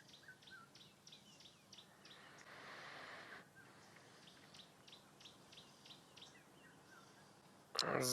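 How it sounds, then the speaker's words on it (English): An orange-breasted bushshrike and a red-chested cuckoo call at sunrise in the bush, faint and distant, repeating short whistled notes in a steady rhythm over a quiet background, with a brief loud noise close by at the very end. "You can hear orange-breasted bushshrike calling and a red-chested cuckoo in the distance."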